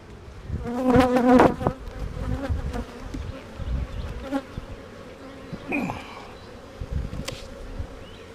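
A loud, dense buzzing of many honeybees close by in an open hive, swelling and fading with passing wingbeats, with occasional faint knocks underneath.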